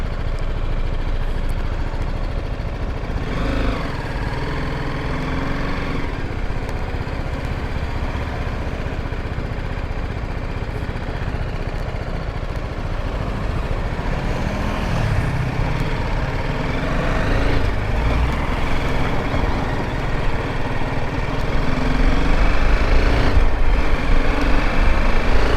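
Engine of a rental motorcycle in Japan runs as a steady, fairly loud drone throughout, swelling slightly toward the end, with no talking.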